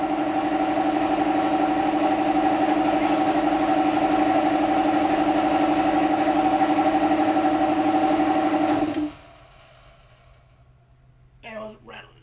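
A Kobalt air compressor with a tank gauge, clogged with oil and gunk, runs loudly and steadily with a harsh mechanical rattle for about nine seconds, then shuts off abruptly, leaving quiet room tone and a brief faint sound near the end.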